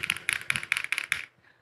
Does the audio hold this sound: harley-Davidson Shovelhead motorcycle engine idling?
no